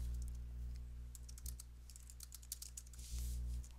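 A computer keyboard is typed on in quick, irregular bursts of close, crisp key clicks over a low steady electrical hum, with no talking.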